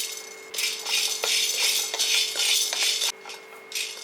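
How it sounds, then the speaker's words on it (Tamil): Twenty-five grams of black peppercorns poured into a pan for dry roasting alongside turmeric and fennel, a close, dense rattling and pattering of hard little grains that keeps going with brief gaps. "இப்போ மிளகு 25 கிராம் போடுறேன்."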